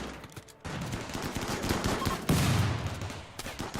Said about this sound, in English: Someone released an explosion of some kind.